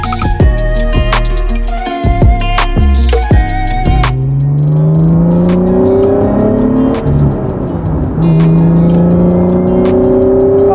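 A 1991 right-hand-drive Japanese-market Honda NSX with manual steering revs loudly while driving, its engine note climbing and falling through steady rising harmonic sweeps, heard up close and alone without talk.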